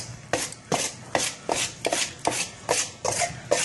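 A pastry blender or fork cuts Crisco shortening into flour in a bowl for an apple pie crust, producing quick, regular scraping chops about every 0.4 seconds, close and moderately loud with no talk.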